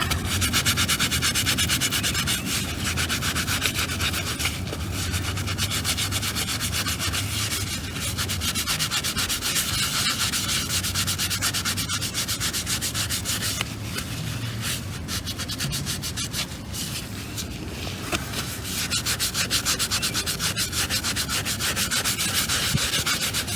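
Steady, continuous rough scrubbing against a rusty, dirty chrome wheel, close up and unbroken for a long stretch, with no talking.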